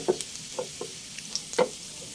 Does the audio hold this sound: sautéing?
yes